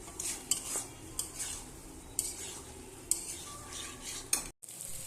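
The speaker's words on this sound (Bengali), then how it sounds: "এবার একটু ভালোভাবে কষাবো" Prawn curry with potato and pointed gourd being sautéed and stirred in a pan, with repeated scraping and clinking of a spatula on metal over a steady low sizzle, close and without speech.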